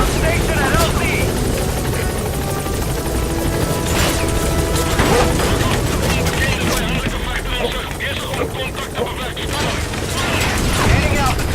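The Pequod helicopter from Metal Gear Solid V climbs with a loud, continuous rotor roar and engine drone, while radio-style voices and scattered crashes and gunfire sound over it.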